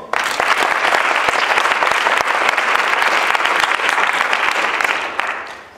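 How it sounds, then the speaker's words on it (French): An audience at a student debate contest gives sustained, loud applause, a dense wash of clapping hands that holds steady for several seconds before tapering off at the end. "Je vous demande un tonnerre d'applaudissements pour Julie Morvan"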